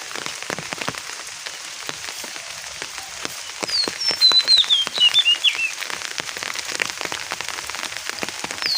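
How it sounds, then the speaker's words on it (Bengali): Light to moderate rain falls steadily in a village setting on a cloudy day, with dense close patter of drops on surfaces throughout and a slightly heavier burst midway; no voices. "বৃষ্টির দিন, মেঘলা আকাশ এবং বৃষ্টি পড়তেছে টিপ টিপ করে, অত জোরেও না আবার আসতেও না, মিডিয়ামভাবে পড়তেছে।"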